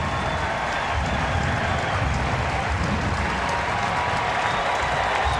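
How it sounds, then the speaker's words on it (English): A stadium crowd at a Portland Thorns women's soccer match roars and applauds steadily as Allie Long is about to come on, a dense, continuous wash of cheering and clapping throughout. "The crowd cheering as Allie Long set to come into the match for the Thorns"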